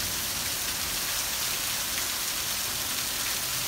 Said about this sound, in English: So, it's raining outside. This is the weather in Missouri.